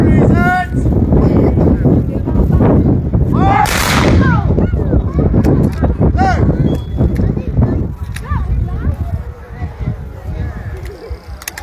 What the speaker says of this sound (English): So we get a fire on 2 rounds volley, in other words volley is having fire together.